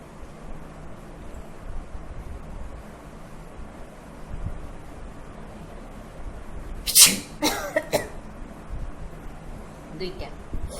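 A person sneezing during a sneezing challenge using grass and chilli, a sharp close sneeze burst followed by a couple of smaller ones, with quiet talk and room noise around them.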